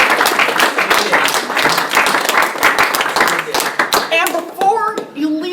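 Audience at a political speech applauding with a dense wash of clapping hands, fairly loud and sustained, thinning out toward the end as voices start to come through.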